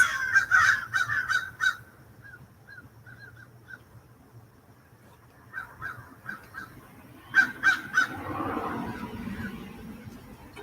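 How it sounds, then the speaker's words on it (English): Several crows caw in quick repeated bursts, moderately distant, pausing and then calling again in another loud flurry. "Crows are loud, deciding to join us, aren't they?"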